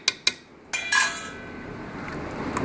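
A few sharp spoon clinks against a container as citric acid is stirred into red Taskeen Rooh laal sharbat, followed by a soft, steady swishing of liquid being mixed.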